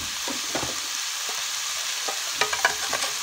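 Broccoli stir-fried in a pan with a steady sizzle and the clink and scrape of a spatula, the stirring growing busier toward the end.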